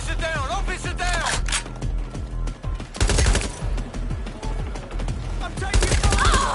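Gunfire in Watch Dogs Legion, rapid bursts of loud shots over music and game noise, with an officer-down police chase and shootout unfolding.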